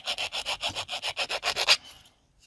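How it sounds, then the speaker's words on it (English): A heart-shaped resin stained-glass piece coated with liner paint is sanded along its edges by hand. About a dozen quick, even rasping strokes follow one another at a brisk rhythm, close and clear, then stop and leave near silence. "sand the edges and see how this sands"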